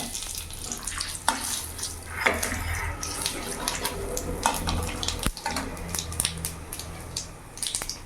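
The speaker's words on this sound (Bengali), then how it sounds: "তেলের মধ্যে গোটা জিরে আর একটা তেজপাতা দিয়ে দিলাম" Whole cumin seeds and a bay leaf hit hot mustard oil in a kadai, giving a soft crackling sizzle with intermittent stirring clinks and pops, fairly close and without talk.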